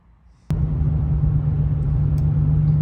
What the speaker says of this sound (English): I'm gonna include a clip of me driving down the road too